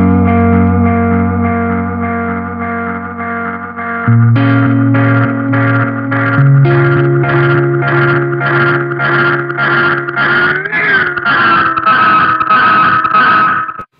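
A delay pedal with standard controls, its repeat turned up to about 75% so it self-oscillates, building stacked repeating tones that swell and pitch-warp into a loud, continuous feedback squeal, heard alone without talk.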